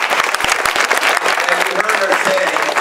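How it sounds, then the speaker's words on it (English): Audience applause at a college STEM conference, a busy spread of clapping from many hands with a few sharper claps up front, steady for a few seconds with faint voices underneath. "So give your faculty a round of applause."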